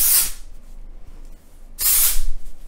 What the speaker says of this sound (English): I'm gonna shake the can well, and I'm just gonna start kinda spraying it everywhere.